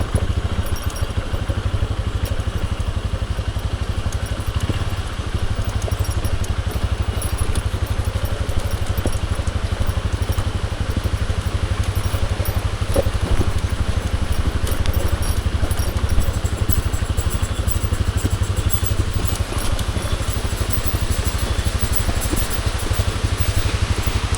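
A motorcycle engine runs steadily, a constant low throbbing idle with some clatter, heard close and unbroken the whole time.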